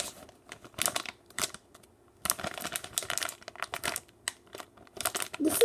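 Plastic packaging around a toast-shaped squishy crinkles up close in irregular bursts, with short pauses between the crackly handling sounds. No one speaks.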